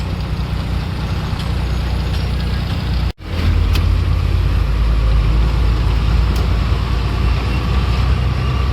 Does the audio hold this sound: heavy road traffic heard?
yes